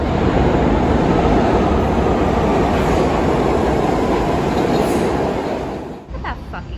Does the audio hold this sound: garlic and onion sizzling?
no